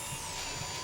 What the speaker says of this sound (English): the drill is just right next to me